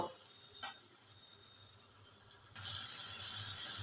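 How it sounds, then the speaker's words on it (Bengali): Water poured into a bowl that held yogurt and cashews, a steady close splash that swells and grows louder partway through, with no talking. "এবার ওই বাটিটা যেটাতে আমি দই আর কাজু বাদাম বেঁধেছিলাম জলটা এর মধ্যে দিয়ে দিলাম"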